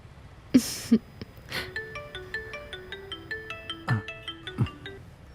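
A melodic phone ringtone plays a repeating pattern of bright electronic notes, preceded by a couple of soft knocks and a faint exhale.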